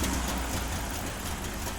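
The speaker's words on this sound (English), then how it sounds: "it sounds like Murphy has finally got the engine running." An engine running steadily just after being started, a loud, continuous rumble that holds an even idle throughout with no voices.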